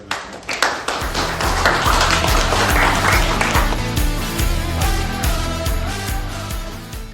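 Hospital staff applaud colleagues along a corridor of a historic Kyiv city clinical hospital; a few sharp claps open, then steady group clapping swells, mixed with music carrying a tonal melody and low rhythmic notes.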